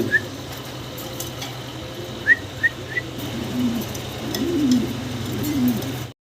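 Black checker Mundian fancy pigeons give soft low coos, with a few short high chirps and whistles nearby.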